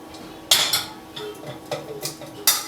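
Cooked spaghetti dropped and pushed into a bowl, with a handful of sharp clinks and taps of utensil against dish spaced through the moment, close and fairly loud, no talking.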